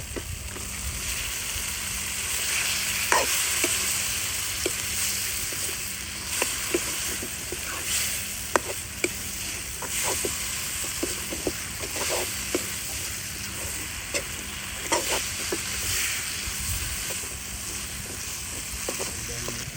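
Pieces of free-range country chicken dropped into spice paste frying in a village kitchen pot, giving a steady sizzle with scattered sharp clinks and stirring knocks throughout.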